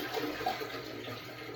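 Water pouring into a travel trailer toilet bowl during cleaning, a steady close splashing wash that holds at even loudness throughout with no talk.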